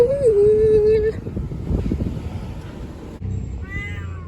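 A cat meows once, close and clear, in a drawn-out cry heard outdoors on a street with wind and traffic noise.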